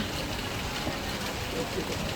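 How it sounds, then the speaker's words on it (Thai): Dense, steady hiss of heavy rain pouring down outdoors in a garden, continuous and fairly close, with no pauses. "ตอนนี้ฝนตกนะคะ เฮ้ยฝนตกใหญ่เลย"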